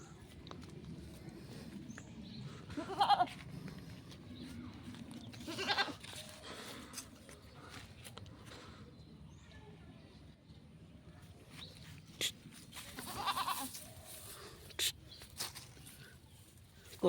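Goats on a village farm bleating, a few short scattered cries spaced across a quiet background, mostly soft and at moderate distance, with low murmuring voices at times.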